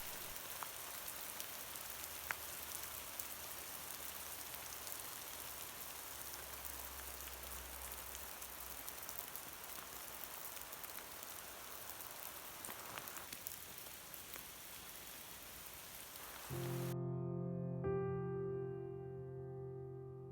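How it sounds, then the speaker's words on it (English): Steady rain patters on the forest around hikers in the Redwoods in March, a soft, even hiss that continues for most of the stretch before music takes over near the end. "It was beautiful, but then it started to rain."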